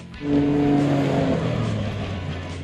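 A John Deere Gator utility vehicle loaded with gear speeds across rough washes near Mount Hood, its engine a loud, close, steady hum over rumbling ground noise.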